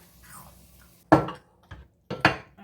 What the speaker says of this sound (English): And we're going to go ahead and add our onions to our pan.